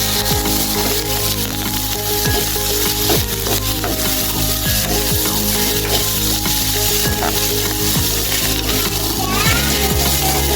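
Onions and curry leaves fry loudly in a pan for Kerala egg roast, a dense close sizzle broken by frequent sharp scrapes and clinks of a spatula stirring against the pan.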